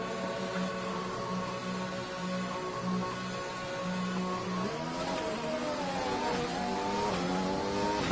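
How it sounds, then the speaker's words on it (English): A Formula 1 car engine in the video game F1 2020 hums at a steady pitch in the pits, then revs and rises as it pulls away, continuous and fairly loud with no voices. "All personnel be aware we have a car leaving."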